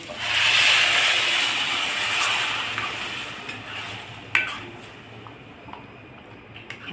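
Misal curry of sprouted moong sizzles and hisses loudly in a pan as water is poured in, a broad steady frying hiss that slowly eases, with a few faint clinks of utensils near the end.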